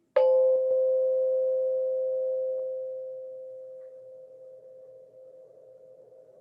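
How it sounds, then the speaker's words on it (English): A single bell strike rings out with a clear sustained tone, fading slowly over several seconds with no other sound. "we'll start by listening to the sound of the bell"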